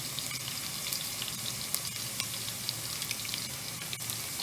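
Onions browning in a pan for nihari, a steady dense sizzle and crackle of frying that stays even and close throughout, with small pops scattered on top and no talk.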